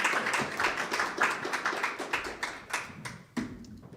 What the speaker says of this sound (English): Let's give a round of applause to our District 5 candidates.